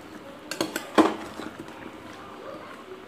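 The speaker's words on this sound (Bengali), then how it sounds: "এখন আমি আবারও চিনিগুলিকে ভালোভাবে আমার মিষ্টি কুমড়ার সাথে ভালোভাবে মিশিয়ে দিচ্ছি" Sweet pumpkin is mixed with sugar in a cooking pot, with a few close clinks and scrapes of a utensil against the pot over a quiet background and no talk.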